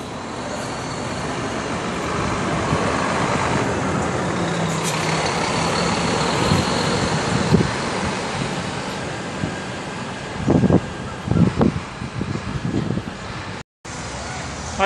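Gontijo intercity buses rumble past at the Tietê bus station in São Paulo, a loud, continuous roar of diesel engines and traffic with air-brake hisses and clunks near the end, and people chatting in the background.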